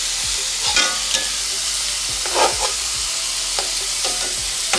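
Steak sizzling steadily in a hot pan before being flipped, a close, continuous crackle with a few scraping stirs and clatters mixed in, no voices.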